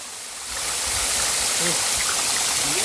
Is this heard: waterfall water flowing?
yes